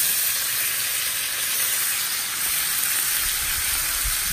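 Mahi mahi fillet sizzling steadily in a hot pan, a loud continuous hiss of frying fat with no talk.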